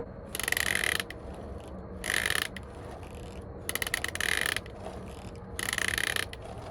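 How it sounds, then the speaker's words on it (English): Screen door sliding open while a protruding pin drags along the inner track, giving four bursts of harsh, rasping ratchet-like scraping at close range, separated by quieter pauses, with no talking. "It's actually dragging on the inner track and creating an unfriendly sound."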